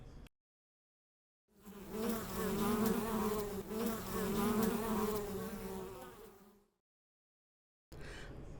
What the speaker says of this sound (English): I don't think it was a bee. I think it was a wasp, and I don't like wasps.